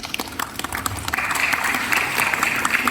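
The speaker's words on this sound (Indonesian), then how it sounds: "Tepuk tangan." An audience at a Darul Quran gathering breaks into applause after a moment of quiet, the clapping swelling and holding steady to the end.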